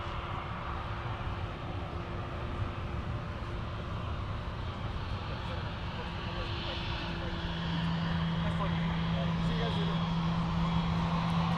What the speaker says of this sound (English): It's another Prime Air 737.